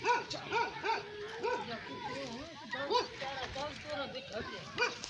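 A tracking dog gives repeated short barks and yips close by, with people talking over and between the barks throughout.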